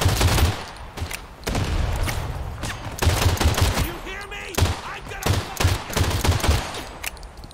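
Repeated SMG bursts from a video game match ring out in rapid, uneven volleys, loud and close, with short gaps between strings of shots.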